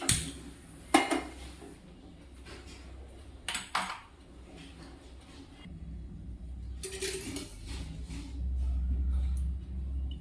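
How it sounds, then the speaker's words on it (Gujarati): A small kadai pan is set down on a gas stove with several metallic clanks and knocks, close by. A low steady rumble follows as the burner runs. "હવે હું નાની કઢાઈ ગેસ ઉપર મૂકીશ"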